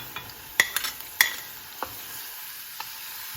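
Garlic paste fries in a pan for tomato chutney, a faint soft sizzle broken by a few sharp utensil taps and scrapes as it is stirred.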